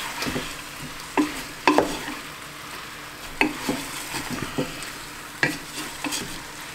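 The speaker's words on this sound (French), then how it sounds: "on mélange bien pour que tout le petit jus, vous voyez, soit absorbé par la farine" A spoon stirs meat juices and flour in a pot over a soft sizzle, scraping and knocking in irregular close strokes.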